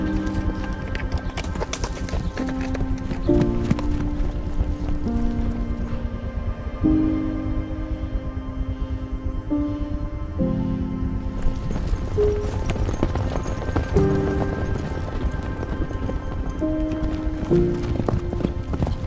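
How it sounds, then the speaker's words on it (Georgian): Horses running freely near Kakhisi lake in Georgia give a steady, rhythmic clip-clop of hooves throughout, mixed with a tonal melodic backing. "თავისუფლად მორბენალი ცხენები"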